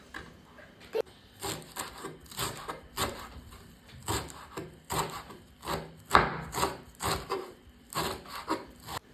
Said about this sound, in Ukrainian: Я взяла також пучок свіжої петрушки 20 грам і нарізаю дрібненько.